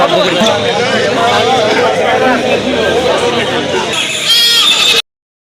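Goats bleat repeatedly at a busy cattle and goat market in Dimla, close and loud, over constant crowd chatter and nearby voices.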